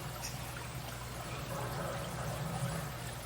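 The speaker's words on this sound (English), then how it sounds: "So we drained those and we just pour them right back in here" Drained vegetables and herbs for a Shin Ramen stir-fry pour back into a pan, a steady close wet trickle and patter lasting throughout, with no talking.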